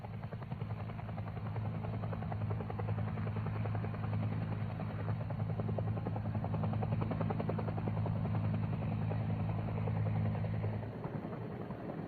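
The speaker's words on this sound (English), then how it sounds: "Takeoff should be slow and vertical until the aircraft is clear of all obstacles." A UH-1F helicopter flies at low treetop level, its rotor thudding in a steady, droning rhythm with a constant engine hum that dips slightly near the end.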